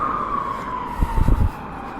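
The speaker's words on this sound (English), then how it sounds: "sirens, ambulance" Passing ambulance siren, a single sustained wailing tone sliding slowly downward in pitch over steady road noise, with a brief burst of low thumps partway through.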